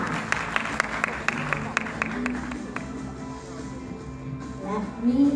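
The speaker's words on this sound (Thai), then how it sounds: "ขอเสียงปรบมือต้อนรับด้ยค่ะ" Guests are welcomed onstage at a Grab Thailand and SWAG EV launch with a brief burst of sharp, separate claps that thins out after a few seconds. A voice continues under the fading applause.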